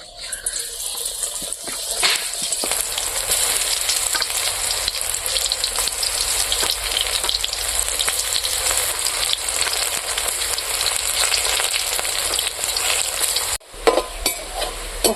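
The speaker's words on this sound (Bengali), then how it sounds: "এখন আমি সর্ষের ফুলের পকোড়াটা বানাবো তেলের মধ্যে দিয়ে দিলাম" Mustard flower pakoras deep-frying in hot oil make a loud, continuous, rain-like bubbling sizzle that swells after the first couple of seconds, with a brief break near the end and scraping stirs.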